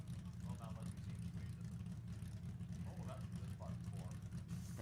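A big block nitrous Ford Maverick drag car roars down the strip at an NHRA nostalgia drag racing event, a steady, loud low engine drone lasting throughout while a commentator talks over it.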